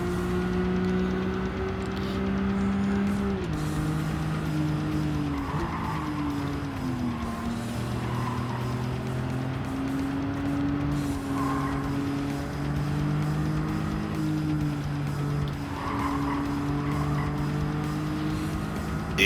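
A sluggish race car in Gran Turismo 7 drones steadily through a race, its engine pitch rising and dropping with gear changes while tires squeal and skid in repeated bursts through the corners.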